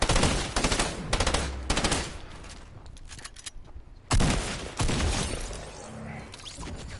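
Burst SMG fire in the video game Fortnite, rapid clustered bursts of gunfire with sharp repeated cracks, several volleys across the clip with a louder shot near the middle and quieter game sounds between.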